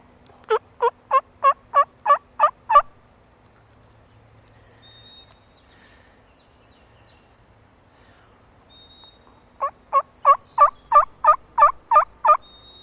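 A mature wild tom turkey gobbles in the woods about 50 yards off, giving two clear bouts of rapid rattling pulses separated by several seconds of quiet.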